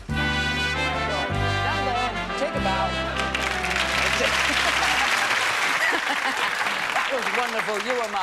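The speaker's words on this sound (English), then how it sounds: "A nice round of applause for three very good volunteers." A television magic-show studio audience claps for three volunteers, the dense applause swelling in over sustained band music that plays on and then gives way, leaving loud, steady clapping close to the microphones.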